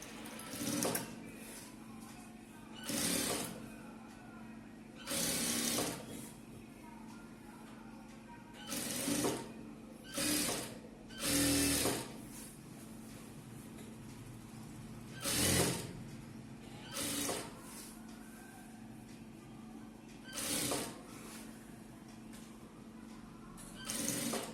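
A sewing machine stitches a chudithar in short, quiet runs of a second or so, separated by pauses and repeated about a dozen times.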